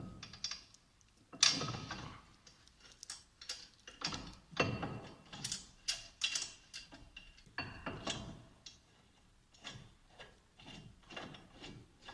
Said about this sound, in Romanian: trebuie să strâng aceste șuruburi foarte bine